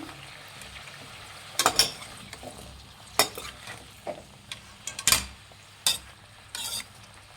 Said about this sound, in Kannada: ಬದನೆಕಾಯಿ ಹಾಕ್ಕೊಂಡು ಚೆನ್ನಾಗಿ ಮಿಕ್ಸ್ ಮಾಡ್ಕೊಳ್ಳಿ